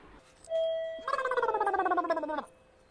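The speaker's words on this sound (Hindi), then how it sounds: "घंटी भी अभी बजनी थी।" An electronic doorbell rings indoors: a short steady tone, then a wavering chime that slides downward for over a second before it cuts off. The ring is moderately quiet and stands alone.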